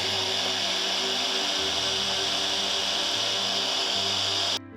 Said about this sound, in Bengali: এবার কাজ করবে মিক্সার গ্রাইন্ডার।